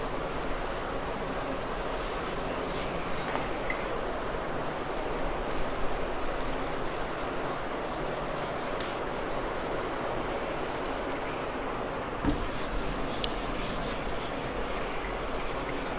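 Steady rubbing of a duster or cloth wiping writing off a board in a lecture room, a continuous scratchy, sanding-like sound heard alone and fairly close, with one brief knock near the end.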